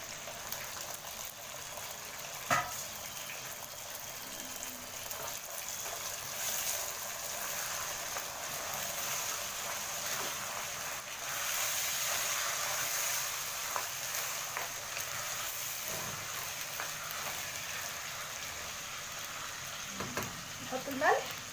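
Washed, drained rice is tipped into a pot and stirred, giving a soft sizzling rustle with faint scraping of the spoon and occasional clinks, steady and low-level throughout.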